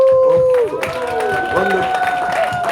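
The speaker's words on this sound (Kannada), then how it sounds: "ಚಪ್ಪಾಳೆ." An audience applauds at a Karnataka direct-selling motivational event, a broad wash of clapping that swells after a moment and carries on steadily under prominent voices.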